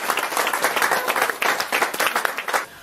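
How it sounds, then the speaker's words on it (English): Audience at a children's book launch claps steadily, a warm continuous patter of many hands close by, holding for a few seconds before tapering. "Can we give her a round of applause, please"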